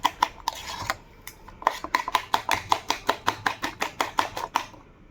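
Eggs for an omelette being beaten hard in a bowl, a fast, even run of about twenty sharp clicking strikes, close and clear with no voices.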